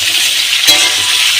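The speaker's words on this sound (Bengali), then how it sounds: "কচুর লতিটা দিলাম, এবার নাড়বো, নাড়তে থাকছি।" Taro stolons frying in a hot pan, a loud, close, steady hiss with one brief scrape of stirring partway through.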